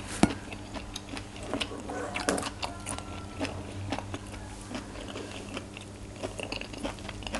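Fresh raw white shrimp crunched while eating som tam with fermented fish sauce and stink beans: close crisp bites and wet chewing over faint background clatter, with no talking.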